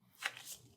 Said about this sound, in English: I shuffle the deck